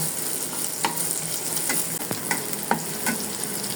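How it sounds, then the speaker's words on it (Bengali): Chopped onions sizzle in soybean oil in a pan, a steady close frying hiss with a few sharp stirring clicks and scrapes. "পেঁয়াজগুলো হালকা ভাজা হয়ে গেছে"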